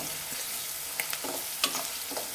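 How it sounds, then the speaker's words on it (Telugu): Ginger garlic paste frying in oil for a ridge gourd curry, a soft, even sizzle with a few brief spatula clinks and scrapes, close but fairly quiet, no voices. "ఈ అల్లం వెల్లుల్లి పేస్ట్ కూడా మంచి నూనెలో వేపుకోవాలి బ్రౌన్ కలర్ వచ్చేంత వరకు"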